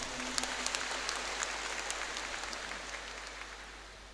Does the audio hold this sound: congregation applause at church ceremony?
yes